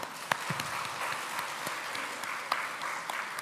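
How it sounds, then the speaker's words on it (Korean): A church congregation applauds in praise at a worship service, steady moderate clapping from many hands with a few sharper claps standing out, heard alone at some distance. "우리 함께 하나님 앞에 영광의 박수를 올려드리죠."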